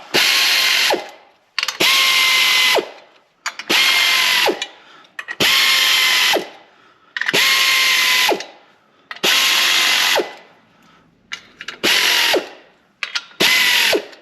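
A power tool drives bolts into a 1998 Dodge Neon clutch in about eight loud, repeated bursts of whirring and ratcheting, each running for roughly a second with short pauses between.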